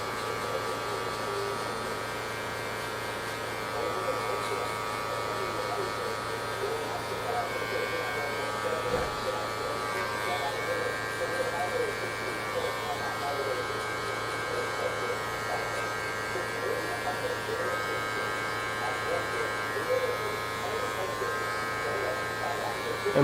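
Electric hair clippers fitted with a one guard, buzzing steadily and close throughout while fading hair, a constant whining hum with small fluctuations as the blades move through the hair.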